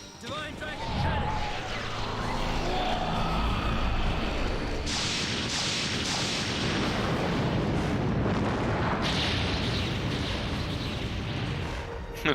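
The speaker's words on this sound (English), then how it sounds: "Magic, Divine Dragon Cannon." Divine Dragon Cannon magic attack in The Legend of Dragoon: a long, loud, rumbling barrage of blasts and roaring energy with surging bursts, with someone talking over it.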